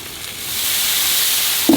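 Food on a Blackstone griddle hisses into a steady sizzle and steam as a little water hits the hot surface, building to a constant loud frying noise with a brief sharper burst at the end.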